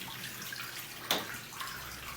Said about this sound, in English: you can see water coming out of the pressure release valve here